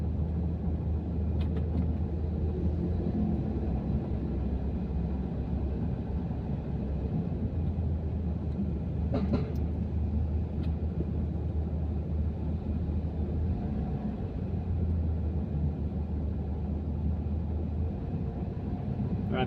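Steady road traffic rumble heard from inside a vehicle in slow, congested traffic along a boulevard, a continuous low engine drone with faint passing sounds and no talk.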